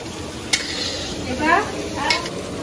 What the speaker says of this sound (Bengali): আজকে আমি কাঁচা আলু দিয়ে রান্না করছি